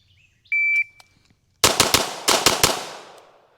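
Staccato XC pistol firing a quick string of six sharp, loud shots in two tight bursts, preceded by a brief electronic shot-timer beep, with echoing decay between reports.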